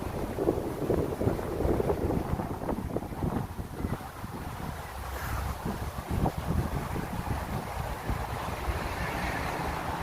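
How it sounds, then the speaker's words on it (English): Gusty outdoor wind buffets the microphone in a constant low rumble and roar, rising and falling in strength with no voices. "That wind's picking up."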